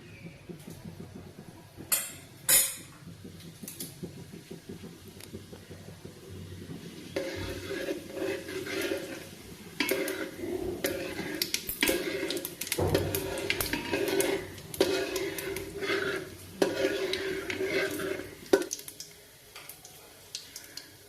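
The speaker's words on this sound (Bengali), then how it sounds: "তেলটা গরম হয়ে গেছে এখন এর মধ্যে দিয়ে দেবে জিরে আর কালো জিরে" Cumin and black cumin seeds frying in hot mustard oil in a pot, a crackling spatter of tiny pops and ticks that thickens into a busy, uneven sizzle with a few metallic knocks of utensils, close by.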